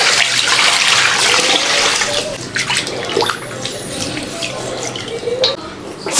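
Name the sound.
washing chicken pieces under running water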